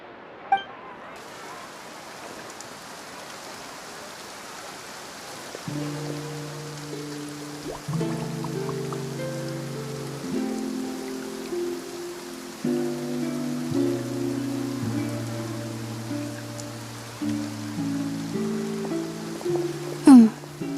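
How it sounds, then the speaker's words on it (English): Steady rain washes over a stretch in Genshin Impact's Fontaine region, a soft continuous hiss running throughout while layered game music swells in beneath it. "Looks like rain."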